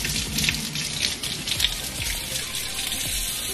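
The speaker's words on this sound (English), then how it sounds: "Warm water." Warm water runs steadily from a tap, a constant close splashing hiss with no voices.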